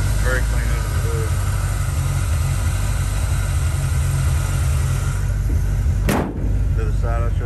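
A 1971 Chevrolet C10 pickup's small-block 350 V8 with an Edelbrock intake idles steadily in the background, a low, even rumble running under nearby talk.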